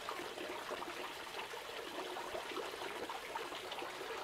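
Water runs continuously into a catfish hatchery tank, a steady hissing, splashing flow that stays constant and close without voices.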